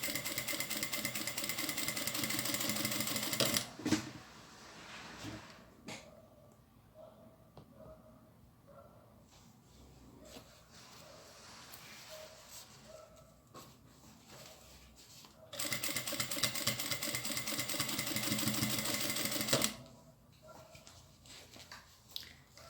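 Sewing machine stitching a satin-lined handbag at the zipper end, a loud steady whirring run at the start, a quieter pause with small handling sounds, then a second stitching burst and a brief final run.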